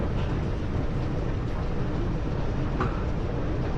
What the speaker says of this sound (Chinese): 下面应该就是地铁站了。